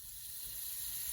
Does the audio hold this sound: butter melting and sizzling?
yes